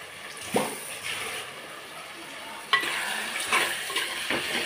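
Chicken gravy spices such as chilli powder, 65 masala, turmeric and pepper powder are stirred in a pan, with a few scraping strokes and a soft sizzle under them.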